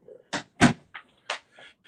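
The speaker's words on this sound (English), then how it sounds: "Let me shut my door." A door being shut in a room, heard as a few distinct thumps and knocks in quick succession, the loudest one near the middle, with quiet gaps between them and no talk.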